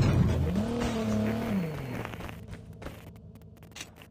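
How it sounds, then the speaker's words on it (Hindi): A car engine in the Call of Duty Mobile battle royale game, a loud revving hum that rises, holds and falls away over about two seconds, followed by quieter scattered game noise and brief ticks. "मुझे गाड़ी का आवाज आता है"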